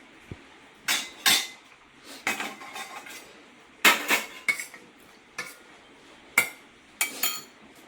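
Spoon stirring cornflour batter in a bowl for a rava and potato breakfast, with a series of sharp clinks and scrapes against the bowl in irregular bursts, close and fairly loud, no talking.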